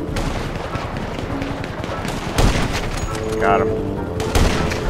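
Gunfire in the video game GTA 5 as snipers shoot, with several sharp loud cracks standing out over a dense, busy game soundscape. A voice speaks briefly during the shooting.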